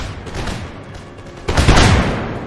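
A musket volley fired by rank in Empire Total War crashes out as a loud, dense burst of many simultaneous shots over a constant rumble of battle, swelling sharply midway and then trailing off.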